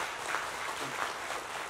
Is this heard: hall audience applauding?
yes